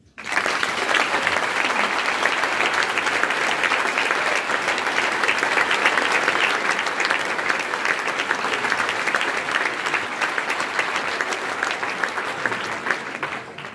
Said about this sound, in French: Je vous demande un tonnerre d'applaudissements pour Jean-François Hochet-Verdet